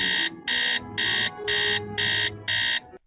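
An alarm clock rings in Nancy Drew: Treasure in the Royal Tower, six loud, evenly spaced electronic beeping bursts over a low room hum, then cut off.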